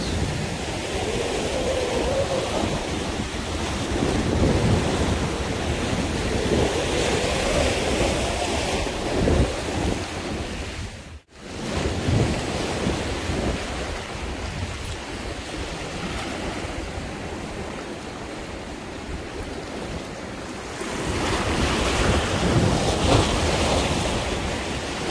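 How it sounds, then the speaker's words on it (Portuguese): Rough sea surf surging and breaking against coastal rocks at a fishing spot, a steady close roar of churning water with wind buffeting the microphone, swelling louder near the end, with one brief dropout midway. "Aqui o mar tá brabo, rapaz."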